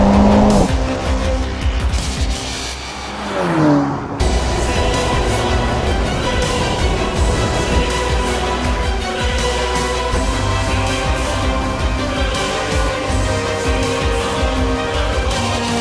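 A 2015 Ferrari California T with a twin-turbo 3.9-liter V8 is driven hard along the Angeles Crest Highway mountain road, the engine loud and close, revving and shifting through gears with brief tire noise.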